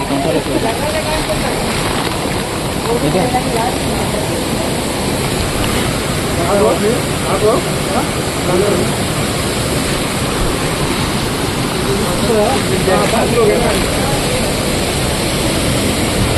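Amboli waterfall roars with a dense, continuous rush of falling water, loud and unbroken from start to finish.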